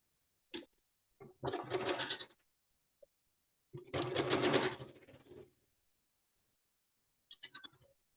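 A sewing machine stitches pieces of a scrappy quilt block in a few short, close, whirring runs separated by pauses.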